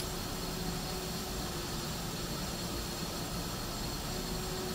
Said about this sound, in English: bad plane, you can leave